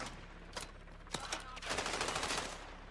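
Gunfire in Call of Duty Modern Warfare, with a few sharp isolated shots followed by a faint sustained automatic burst over a steady background rumble.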